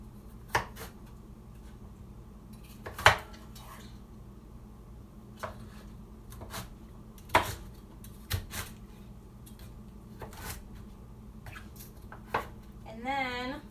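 Food being cut on a board in a home kitchen: sparse, quiet knife taps and clicks at irregular intervals against a faint steady background hum.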